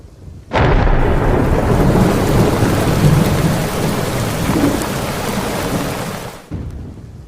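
Heavy monsoon rain pours down at night in Tapi, Gujarat, with thunder rumbling low beneath it; the dense, loud downpour starts abruptly after half a second, holds steady, and cuts off near the end.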